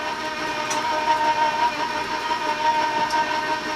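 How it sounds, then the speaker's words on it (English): An electric mixer runs on medium speed, combining honey ginger snap cookie dough, giving a steady, fairly loud motor whir with a constant whine that holds throughout without pauses. "So again, I'm going to warn you about the mixer."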